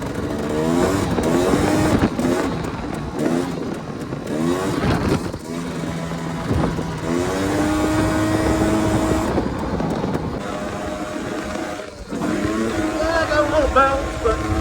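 A 2024 Maverick engine drones and revs steadily while driving laps, with pitch sweeping up and down through shifts and wind buffeting the microphone, and voices talking over it.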